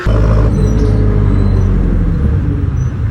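Loud, continuous engine drone and road rumble from inside a jeepney on the move, with a steady low throb and rattling body noise, no voices.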